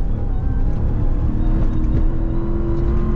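A Ram TRX pickup truck on dirt with lowered tire pressure, its engine roaring steadily and loudly from inside the cab as the wheels spin for traction, a continuous droning rumble with no talking.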